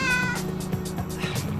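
A cat meows clearly and close by, a drawn-out call followed by a few shorter mews.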